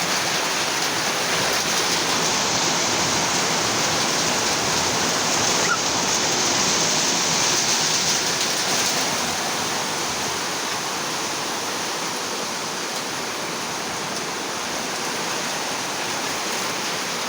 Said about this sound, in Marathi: दाखव पाऊस